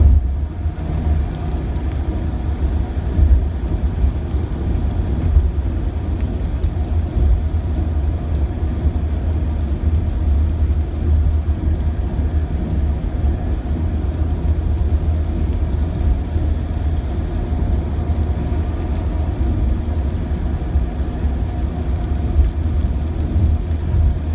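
A car rolls through traffic in Ljubljana at about 80 km/h, its steady low engine drone and road rumble continuous and close throughout.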